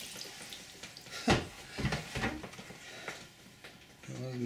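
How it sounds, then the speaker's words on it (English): Red-dyed water pours from a bucket into the top bucket of a homemade water filter, with irregular splashing bursts and sloshing. A voice speaks faintly nearby. "tip that whole bucket of red dyed water into this top bucket"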